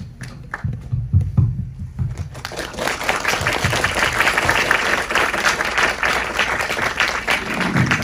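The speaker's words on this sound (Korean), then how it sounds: "들어오시면 박수 부탁드릴게요" Audience applause in a film screening Q&A hall as the director Eda Yuka enters, starting after a couple of seconds of low rumble and swelling into steady, dense clapping that fills the rest.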